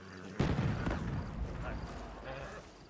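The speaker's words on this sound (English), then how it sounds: "It's an explosion." A single booming explosion in Red Dead RP erupts suddenly and then rumbles away beneath faint chatter from players.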